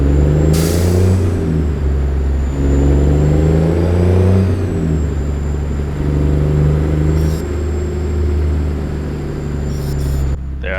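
A heavy truck engine in American Truck Simulator revs up as the rig pulls away, loud and close, with rising and falling engine tones through gear changes and a brief air hiss near the start.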